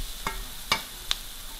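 Onions fried in a pan for aloo bhindi give three short, close scraping stirs a fraction of a second apart over a faint steady sizzle.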